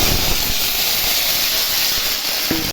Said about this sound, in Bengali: এই যে আলু পেঁয়াজটা সম্বারা দিচ্ছি